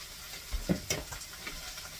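Peppers and onions for chicken fajitas hit hot olive oil in a pan, a soft steady sizzle with a few clatters and stirring knocks near the start, no talking.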